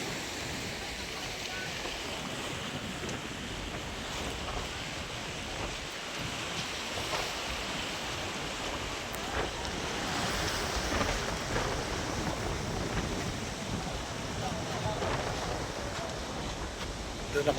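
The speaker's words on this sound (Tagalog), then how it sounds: "Grabe ang alon." Ocean surf pounds against a rocky shoreline formation in a constant, loud wash of breaking waves, blended with wind buffeting the microphone, with no clear pauses between swells.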